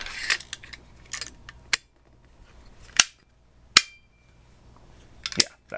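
A rifle bolt cycles and chambers a .300 Blackout round, a short series of crisp, close metallic clicks and clacks separated by brief quiet gaps.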